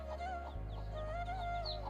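Domestic hens cluck softly in a small household flock, a few short, pitched calls over a low steady hum, fairly quiet and close with no talk.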